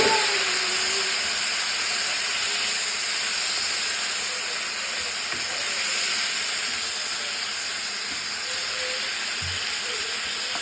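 Radish pieces coated in turmeric and salt sizzle in hot oil, a steady, fairly loud frying hiss that continues evenly throughout with no one talking.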